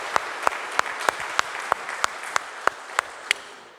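Congregation in a church applauding the choir, a soft wash of many hands punctuated by a string of sharp, evenly spaced claps that keep a steady beat throughout.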